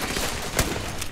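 Gunfire in the video game Starfield comes as a steady, loud wash of rapid shots with one sharper crack near the middle, all within about a second.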